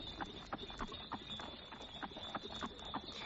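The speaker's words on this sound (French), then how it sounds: "La voiture dévala Regent Street au grand galop." Hooves of a horse-drawn cab clop at a gallop in a quick steady rhythm, faint and distant, with a thin high ringing tone running underneath throughout.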